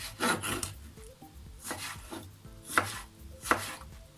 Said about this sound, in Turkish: Domateslerimi de kabuklarını soyup küp küp doğruyorum